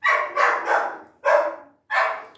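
A dog barks five times close by indoors in a home kitchen, three quick barks followed by two spaced ones, loud and clear with no talk over them.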